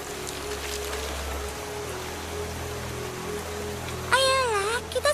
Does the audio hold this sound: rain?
yes